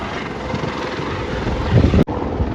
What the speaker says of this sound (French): Voilà ici l'hélicoptère bombardier d'eau qui va intervenir sur cette reprise